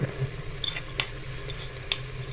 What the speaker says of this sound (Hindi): प्याज को हम ज़्यादा ब्राउन नहीं करेंगे, बस हल्का सा इसको हम फ्राई करेंगे।